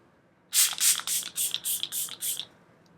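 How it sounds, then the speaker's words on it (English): Seven quick, hissy bursts of a mini Milk setting spray bottle misting onto a face, evenly spaced and close, with silence before them. "And just spray my face."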